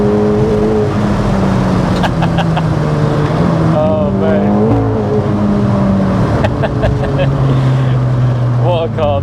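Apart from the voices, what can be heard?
384bhp MK2 Seat Cupra R car driving hard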